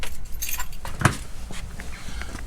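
A bunch of keys jangles and clinks in short bursts, one sharper metallic clack in the middle, as the right key for a motorhome's gas bottle locker is picked out; close and fairly loud, no talking.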